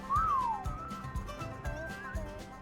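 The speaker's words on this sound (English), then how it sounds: "let's get the wyvern down. We can just whistle." In a video game, a single bright whistle calling a wyvern glides up then down, followed by fainter whistled tones over low rhythmic thumps.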